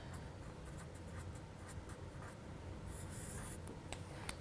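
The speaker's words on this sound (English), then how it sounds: "I realise I need to write top collar here and under collar on this one." A pen writes labels by hand on fabric collar pieces, with short scratchy strokes at an irregular rhythm, close-up and quiet, with a denser run of scribbling near the end.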